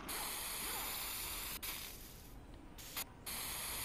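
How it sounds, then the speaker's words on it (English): Spray painting in Saints Row 2, a steady loud aerosol hiss that runs almost the whole time and breaks off briefly near the end before it resumes. "And I'll just be spray painting to collect them all."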